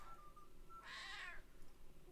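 A house cat gives a single clear meow lasting about half a second, close and fairly loud against a quiet background.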